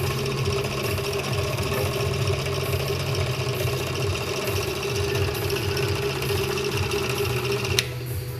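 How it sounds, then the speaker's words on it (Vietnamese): A KD600 bench drill press with a 250 W motor runs steadily, a continuous close whirring hum with a rhythmic mechanical pulse and a brief click near the end. "Máy chạy."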